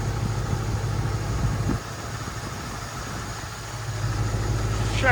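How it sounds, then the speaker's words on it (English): A 1987 Ford Crown Victoria engine idles smoothly, a steady low rumble with a faint even hum, close and continuous with a slight dip midway. "This engine looks like it's sitting still. Sitting here idling."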